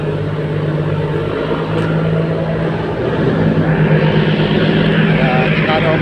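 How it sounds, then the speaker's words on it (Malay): A fishing boat's engine drones steadily and loudly as the boat travels downstream at night, a continuous low hum with no break throughout. "Guys, itu dia kapal ikan kita sudah jalan ke bawah."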